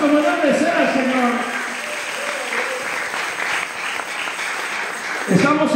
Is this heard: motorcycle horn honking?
no